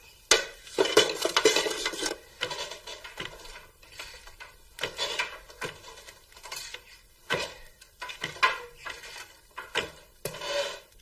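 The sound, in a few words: stirring salted food in a pot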